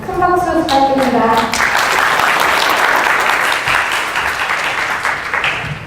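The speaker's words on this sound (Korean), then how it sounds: "큰 박수 부탁드립니다" Audience applause greets a speaker stepping up at a Korean talk event, a dense loud wash of many clapping hands that follows a short spoken introduction and stays steady for several seconds.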